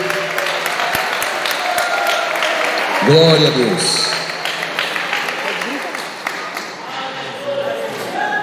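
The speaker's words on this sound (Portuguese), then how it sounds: "pode louvar a Deus com uma salva de palmas bem forte, bem alegre" Congregation applause at an evangelical church service, a steady, fairly loud wash of clapping throughout, with a voice calling out briefly over it.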